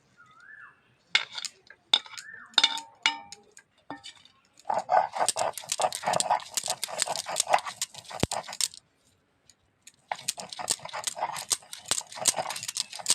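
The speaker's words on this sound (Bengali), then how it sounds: "আমি এখানে শিলনোড়া বেটে নিচ্ছি" Fried kharkol leaves ground on a stone shil-nora in a village kitchen: a few clinks and knocks give way to two long bouts of dense, rapid rasping strokes of stone on stone, separated by a short pause.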